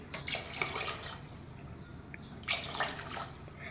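Water poured into a pot of rice for bagara rice, a steady splashing pour with two louder surges, close by and alone, with no talking.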